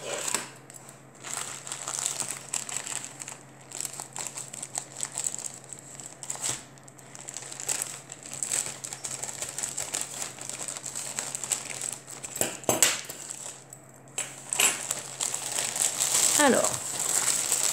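Crinkling and rustling of plastic wrap as a diamond painting kit package is opened, steady close handling noise with occasional sharper crackles, a voice speaking briefly at the start.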